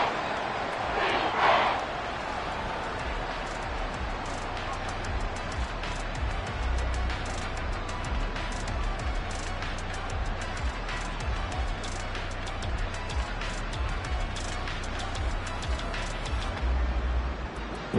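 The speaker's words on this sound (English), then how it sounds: "This crowd turning up the decibel level." A football stadium crowd roars on a third-and-long play, a dense, steady wall of cheering and noise that holds loud throughout, with a brief sharper surge near the start.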